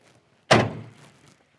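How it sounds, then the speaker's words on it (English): A door on a 1967 Pontiac Firebird shuts with a single close, solid thunk that rings briefly and fades. "Set of those doors shut."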